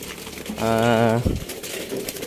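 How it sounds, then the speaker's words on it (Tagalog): Several pure white wedding doves, fed on a rainy day, give a clear, close cooing call. A single drawn-out warbling coo lasts about half a second and is followed by a brief low note. "Mga na ito, mga kalapati na ito."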